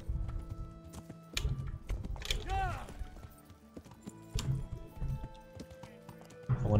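Horse hooves clip-clopping at a charge in Kingdom Come: Deliverance, with a rhythmic pounding running throughout and a brief whinny near the middle, mixed under someone talking.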